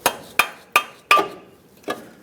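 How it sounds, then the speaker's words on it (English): Five sharp, ringing knocks of a rubber mallet on a front upper control arm of a 2003-2009 Dodge Ram 2500, struck at a steady pace with a short metallic ring after each hit. "Use a rubber mallet."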